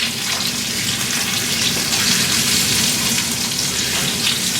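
Salmon fries in bacon grease in a pan with Old Bay seasoning, giving a loud, continuous close-up sizzle with a dense crackling hiss that holds steady throughout.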